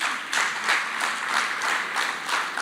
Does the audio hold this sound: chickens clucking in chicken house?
no